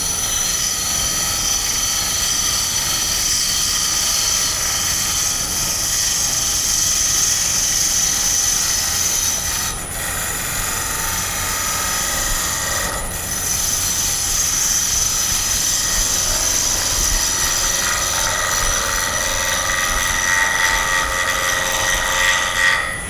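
A bowl gouge shear-cuts a square-edge wooden bowl spinning on a lathe, giving a loud, steady, continuous whine and hum that runs throughout without speech.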